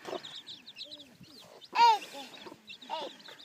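Soft bird clucks and chirps come in short bursts, with one louder peep standing out in the middle.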